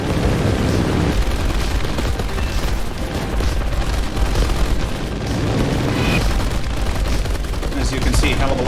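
Aircraft guns in War Thunder firing at targets, dense continuous bursts of gunfire blending with engine roar and explosions, loud and sustained throughout with no talking.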